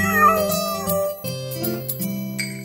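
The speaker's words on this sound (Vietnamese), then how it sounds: "Trông chú mèo con nghịch ngợm kìa." A kitten meows in a cheerful children's song, the mews set against a steady sung melody and musical backing, with the meowing fairly prominent near the start.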